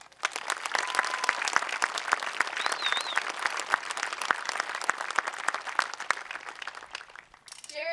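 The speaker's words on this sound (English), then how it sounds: "I would ask for a round of applause from all those finished with the service, currently serving, or who are about to start their journey" A graduation audience gives sustained applause for military service members, dense crisp clapping from a large crowd filling the hall for several seconds, with a few whoops over the top.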